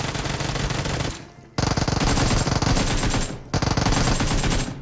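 Rapid automatic gunfire in a video game, loud and continuous bursts with a short gap near the middle, dense and close with no talk over it.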